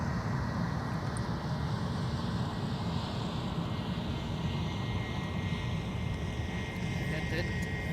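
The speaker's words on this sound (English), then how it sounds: "It's a Bombardier Challenger 300 for AirShare" Bombardier Challenger 300 business jet taxiing at an airport: a steady, moderate jet engine drone and whine persists throughout with no breaks, slightly distant.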